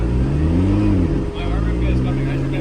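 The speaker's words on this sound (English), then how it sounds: "So we are currently driving the P1 technically." A McLaren P1 supercar's engine drones loud and close from inside the cabin on Miami streets, with pitch rising and falling as it revs, under a person talking.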